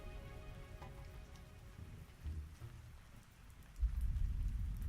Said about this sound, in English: For once, Vivra's grateful for the rain.